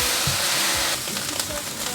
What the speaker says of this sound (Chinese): 把这些菇类炒软。 慢慢的炒，你会发现菇类有释放出水分